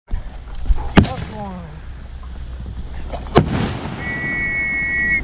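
Two sharp firework bangs a couple of seconds apart during an outdoor airsoft game, each followed by crackling, and later a thin rising whistle.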